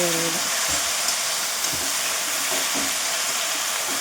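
Freshly picked garden greens sizzle loudly in a hot pan as they are stirred, a steady frying hiss broken by occasional soft scrapes of the spoon.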